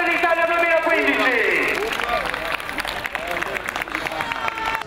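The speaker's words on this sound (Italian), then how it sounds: "l'applauso per Loris Coca, campione d'Italia 2015." Crowd at the finish of the 2015 Italian cyclocross championships in Pezze di Greco clapping for the champion, with loud voices and cheering over a busy babble of spectators, the clapping mixed into the noisy crowd.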